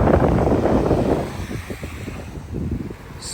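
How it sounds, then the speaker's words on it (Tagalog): Heavy wind buffets the microphone with low rumbling gusts that ease after a second, leaving softer fluttering bursts. "Ganyan lakas ang hangin ba?"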